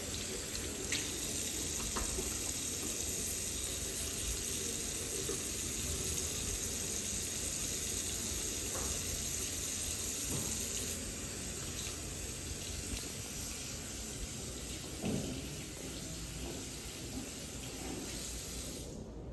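A tap runs in a steady, hissing stream into a sink during handwashing, continuous and fairly close, with a faint knock near the end.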